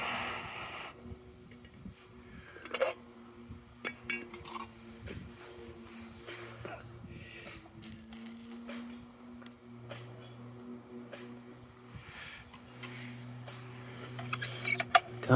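Dishes and utensils clinking while coffee is made, with light jangles and taps spread through a low hum and a few sharper knocks, growing busier toward the end.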